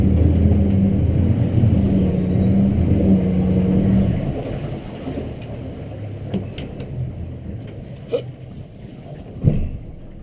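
A Weldcraft 220 Maverick boat with a 200 hp outboard idles at trolling speed while turning, a loud, steady low hum that eases slightly partway through, with a few faint knocks.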